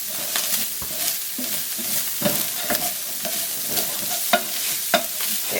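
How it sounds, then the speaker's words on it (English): Chopped onion with salt sizzling and sweating in a pan on high heat, a steady close frying hiss broken by the scrape and clatter of stirring, with no talking. "Okay, now I'm going to go in with some onion. Now some salt, and that will help sweat the onion."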